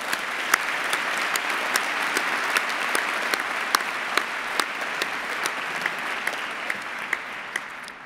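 Sustained applause from a seated audience greets graduates at a university postgraduate ceremony, with dense, even clapping filling the hall throughout and a few sharper individual claps standing out.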